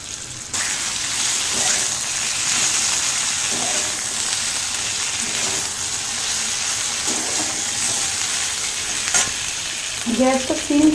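Moringa drumsticks sizzle steadily in hot oil in a pan for a Bengali veg curry, with intermittent scraping stirs of a spatula and a few louder clatters near the end.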